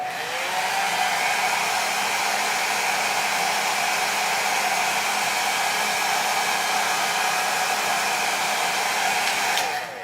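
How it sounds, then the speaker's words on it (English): A hair dryer on a warm setting blows with a constant airy roar and a whining motor tone, loud and unbroken for about ten seconds, then clicks off at the end. "So I'm gonna get my blow dryer on a warm setting and start to press down the lace."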